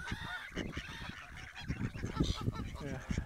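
An Egyptian goose with orange eyes honking at a reservoir in Essex, repeated harsh nasal calls in an irregular run, fairly close and clear.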